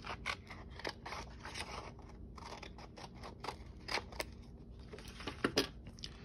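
Scissors snip around paper poinsettia patterns in a quick series of soft, crisp cuts with small rustles of paper between them, close and fairly quiet.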